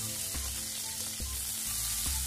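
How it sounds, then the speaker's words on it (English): Chopped potato and a finely sliced onion frying in a pan, giving a steady close sizzle with a few soft stirring knocks as they are tossed. "Toss everything in the pan until the potatoes are half cooked"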